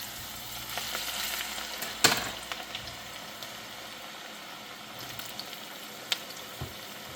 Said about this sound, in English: Ooh, Miss Wanda putting some fries in that grease.